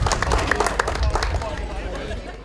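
Applause from the crowd at the Kobermännchenfest in Sangerhausen, a festival honouring its participants: dense, steady clapping with crowd babble that thins out toward the end.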